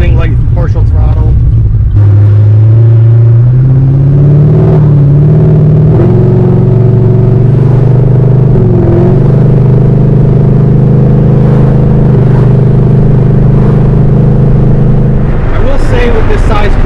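A fifth-generation Chevrolet Camaro SS V8 with a big-stall converter, locked up at about 45 to 50 mph, cruises at partial throttle with a steady, loud droning hum. Its pitch rises gently early on, then holds level while a person talks over it.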